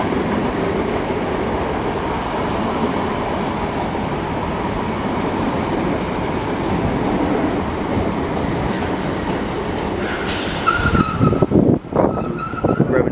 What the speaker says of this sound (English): Now arriving in is a Virgin Trains East Coast service to Leeds